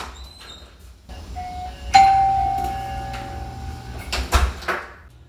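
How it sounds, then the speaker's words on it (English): A video doorbell chimes once, a clear sustained electronic tone ringing out and fading, surrounded by faint clicks and knocks from handling nearby. "I will let you see on video that my doorbell does still work"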